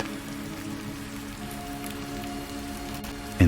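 Steady rain falls in a misty cove, a soft, even hiss of droplets pattering on surfaces close by, continuous and unbroken throughout.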